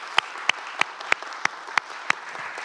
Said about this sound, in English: Can we all give Superintendent Wallington a round of applause?